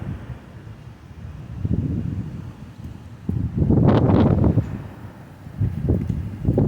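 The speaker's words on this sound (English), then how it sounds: "It's almost like it's a little mini tornado, hurricane or something." Strong wind gusts buffet the microphone during a high-wind storm, rising in rough surges with a loud roaring peak near the middle and rustling in between, no voices.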